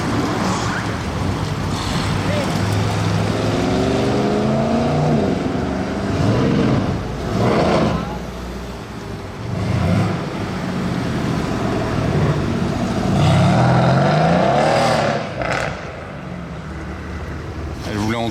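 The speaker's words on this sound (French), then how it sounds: "SL63 AMG, C63 AMG, échappement Brabus. Waouh, elle sonne bien." Mercedes-AMG SL63 and C63 with Brabus exhaust revving, a deep engine note swelling and falling several times, loud and close, with wind buffeting and a voice talking over it.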